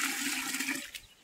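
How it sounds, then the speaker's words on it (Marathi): Water pours into a container of flour being mixed for homemade organic fertilizer, a short close gushing splash that fades out after about a second, with no talk. "बघा पाणी टाकतो आणि हे हालून घ्यायचं"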